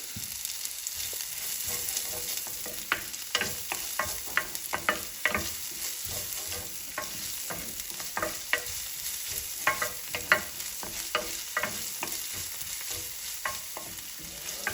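Finely chopped onion fries in a pan, a steady close sizzle broken by frequent clicks and scrapes of stirring, with no talking.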